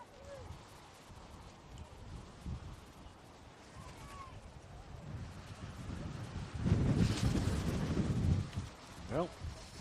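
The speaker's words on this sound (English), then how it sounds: "wind sure has picked up here at Harold Lutz Fields" Wind buffets the microphone at an outdoor baseball field, a rough low rumble that swells and gusts louder toward the end, mixed with faint distant crowd and field sounds.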